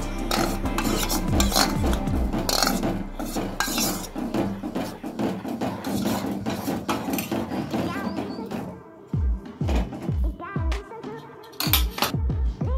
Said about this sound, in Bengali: কিছুক্ষণ পর আমরা এর মধ্যে ফেটানো দই দিয়ে ভালো করে এটাকে ফেটিয়ে নেব।